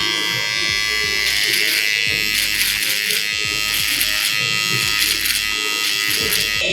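An electric hair trimmer buzzes steadily and close up during a barber's haircut, its whine continuous with small changes as it is moved, while a voice speaks faintly underneath.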